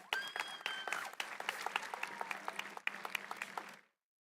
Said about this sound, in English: Please give a round of applause to Miss Libby Wyatt.